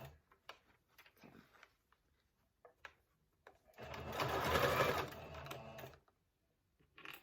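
A sewing machine stitches a half circle skirt's waistband in one steady whirring burst of about two seconds, preceded and followed by soft handling clicks.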